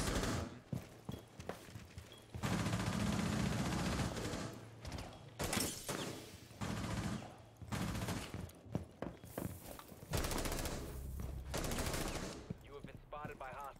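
Gunfire in the Rainbow Six Siege video game, with dense, loud automatic bursts and scattered single shots that continue through most of the stretch, along with rumbling game noise and faint voices.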